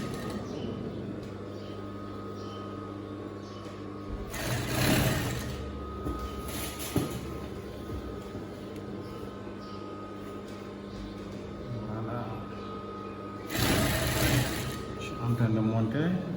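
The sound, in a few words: sewing machine stitching a dress seam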